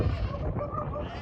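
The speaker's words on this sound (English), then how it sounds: "Livestock in their pens." Sheep and goats bleating in their pens in a mountain village in Morocco's Atlas range, a nearby wavering bleat over a low murmur of other animals.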